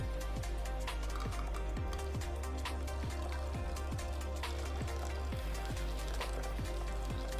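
Water pours steadily from a Cosori gooseneck electric kettle, a continuous close trickle under repeated low rhythmic thumps, with no talking.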